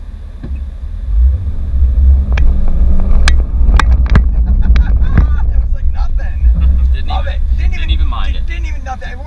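A 2019 Honda Pilot pulling away under light throttle, a steady low engine and road rumble heard from inside the cabin with wind buffeting and a few knocks and rattles, while people talk over it.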